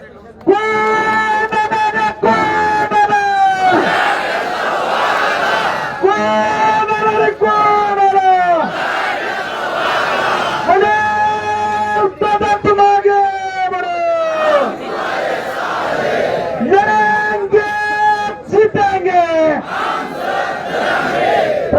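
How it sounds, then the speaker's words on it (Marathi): A large crowd at a Maratha hunger-strike rally in Jalna shouts slogans in unison, loud repeated chanted cries in call-and-response bursts of a few seconds each, separated by brief pauses. "हात उंचावून सगळ्यांनी जोरदार घोषणा द्यायच्यात."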